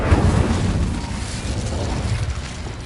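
Incendio fire spell cast in Hogwarts Legacy, a loud burst of fiery whoosh at the start that fades into a steady rumbling crackle over a few seconds.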